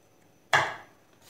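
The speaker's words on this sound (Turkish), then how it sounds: "Sarımsakları da böyle küçük küçük doğruyorum." A single knife chop through garlic on a cutting board, one sharp, close crack that fades quickly in an otherwise quiet kitchen.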